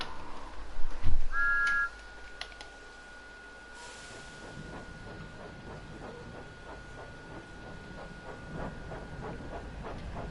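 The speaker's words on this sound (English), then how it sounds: "Use the throttle once again to apply some power to get Thomas moving." The Thomas tank engine pulling away under power in Train Sim World 5, with a loud opening burst and a whistle tone, then a steady run of rhythmic chuffing and clicking beats as it gathers pace.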